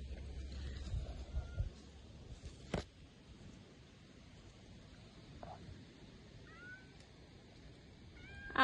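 Out in a vegetable garden, a small cat gives a few faint, high meows toward the end over quiet outdoor hiss, with some soft handling bumps early on.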